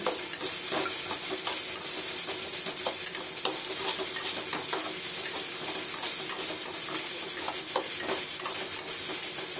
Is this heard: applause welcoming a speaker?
no